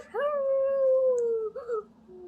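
A voice imitates a dog, a sustained howling bark followed by a shorter yelp, loud and close, read aloud from a Disney Dalmatians story.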